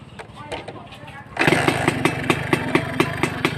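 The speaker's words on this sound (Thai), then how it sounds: "ทีเดียวติดแล้วครับ จอดนานนะฮะ แต่ก็ติดง่าย ๆเลยครับ" A Honda Nova R motorcycle, long parked, turns over quietly and then catches on the first try. It settles into a loud, close, rhythmic two-stroke idle with regular pulsing beats.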